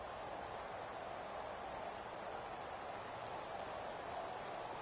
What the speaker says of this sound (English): You add in a downpour like we're in right now, it makes it that much harder.